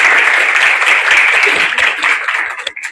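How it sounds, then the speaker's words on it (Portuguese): Students in a university setting give loud, close applause to welcome a visiting professor, a dense burst of clapping that thins and tapers toward the end. "eu já peço uma calorosa salva de palmas desses meninos bonitos aqui"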